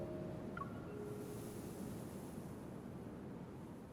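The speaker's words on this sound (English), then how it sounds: "The sound of this sea has become feeble." Sea waves lapping in an intertidal zone in the game Love and Deepspace: a soft, steady wash of surf, faint and continuous, with no voices.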